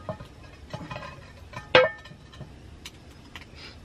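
A heavy pan handled over a campfire, scattered metallic clinks and knocks with one louder clank in the middle, close and intermittent, no talking.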